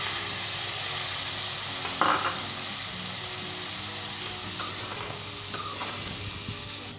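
Ground tomatoes hit a hot pot of beef pulao and sizzle steadily, a low continuous frying hiss with occasional scrapes and clinks of a spoon stirring against the pot.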